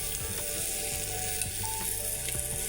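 Mixed vegetables sizzle as they are sautéed for a mixed vegetable curry, a dense steady frying hiss with rhythmic scraping strokes of a spatula close by.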